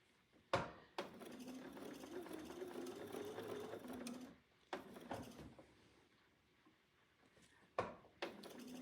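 A sewing machine stitches quilt fabric while a block is pieced, running in a steady mechanical whir for several seconds, pausing, then starting in short bursts, with sharp clicks as it stops and starts, fairly close and quiet.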